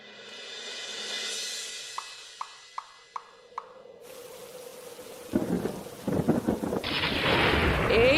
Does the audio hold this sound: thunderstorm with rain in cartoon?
yes